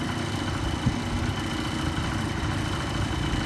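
A two-stroke automatic motorcycle engine idles steadily, a constant low, even rumble with a faint rattle and no speech over it.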